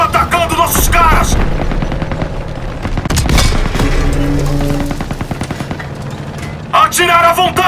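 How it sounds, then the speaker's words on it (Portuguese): Small arms gunfire crackles in Call of Duty WWII, loud, dense bursts of rapid shots and booms in a street battle, with shouted voices in between. "Tiros de armas leves!"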